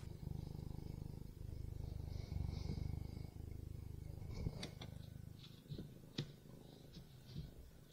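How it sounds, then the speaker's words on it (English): A cat purrs very close to the microphone in a steady, soft rumbling rhythm, joined by faint scattered clicks and rustles toward the end. "I think you can really hear him purring"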